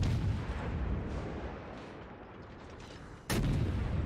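Warship guns firing in World of Warships, with heavy booming blasts: one loud report at the start fading into rumble, then a second sharp, loud shot near the end.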